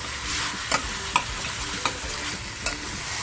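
Mutton pepper fry sizzles loudly in a pan while a spatula stirs it, with four or five sharp scraping knocks over the steady hiss; no talking.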